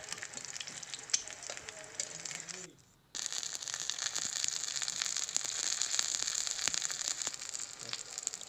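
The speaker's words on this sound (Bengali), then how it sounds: "এখন আমি উলট পালট করে লাল লাল করে ভেজে নেব।" Moglai paratha frying in oil in a kadai, a steady broadband sizzle that keeps on with a brief dip near three seconds, then continues loud and even to the end with no talking.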